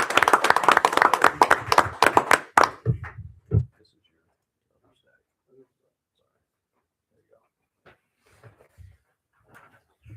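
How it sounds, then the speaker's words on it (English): Council meeting room erupts in loud clapping for a fire and rescue crew's patient care, a dense burst lasting a few seconds before fading to near silence with a few faint thumps. "I take a round of applause for all"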